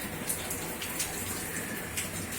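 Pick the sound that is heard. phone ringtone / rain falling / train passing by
rain falling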